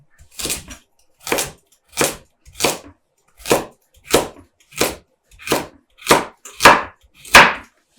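Knife chopping through thin carrot slices on a cutting board for a vegan vegetable soup, eleven sharp, evenly spaced chops in a steady rhythm, close and clear with nothing else heard.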